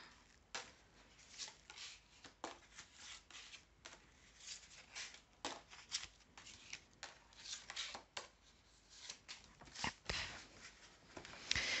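Playing cards handled during a French card reading, a quiet series of close slides, taps and soft flicks as cards are moved and laid aside, with no voices over them.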